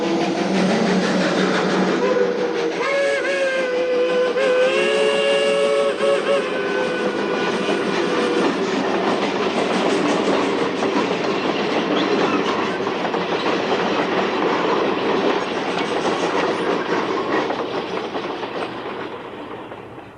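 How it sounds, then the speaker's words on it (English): A train rattles along with steady clickety-clack, a whistle sounds in several sustained tones early on, and the roar thickens into a dense, loud rush as it enters a tunnel, fading slightly at the end. "the train entered a tunnel"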